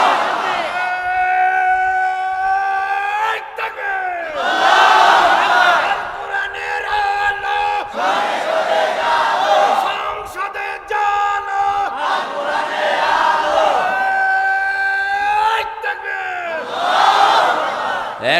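A large gathering chants takbir ('Allahu Akbar') in loud, swelling unison. Roughly four drawn-out, sung waves of massed voices rise and fall, one after another.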